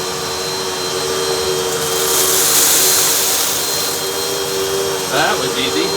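A Bissell Powerlifter Swivel Rewind Pet 2259 upright vacuum cleaner runs steadily for the whole stretch, a loud continuous motor whine with airy suction hiss that swells slightly midway, with a faint squeak of movement near the end.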